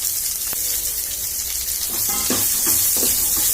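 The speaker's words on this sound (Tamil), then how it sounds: "இப்போ இந்த வெங்காயத்தை போட்டு வதக்கணும்." Steady sizzling of onions sautéing in hot oil, with a few soft clinks and stirring scrapes near the end.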